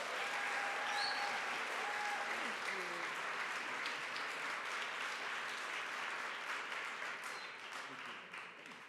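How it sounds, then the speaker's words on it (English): Sustained audience applause at an elementary/middle school ribbon cutting ceremony, a dense crowd of clapping hands holding steady, then tapering slightly toward the end, with some voices mixed in beneath. "if we could give Principal Ashley another round of applause for her incredible leadership throughout this"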